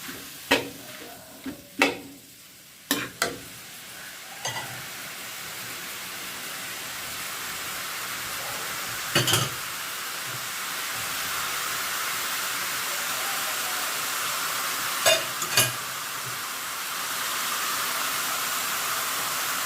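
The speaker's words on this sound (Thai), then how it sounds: "ผัดให้เข้ากันก่อนค่ะ" Pickled bamboo shoots with pork stir-fried in a pan: continuous loud sizzling, with sharp spatula scrapes and clacks clustered early and a few more later.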